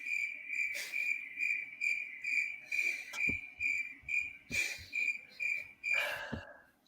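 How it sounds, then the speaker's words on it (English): Cricket chirping sound effect played as a joke, a steady run of sharp, evenly spaced trilling pulses, loud and close, with a few thumps and knocks mixed in. "here's the Crickets. First cricket of the night,"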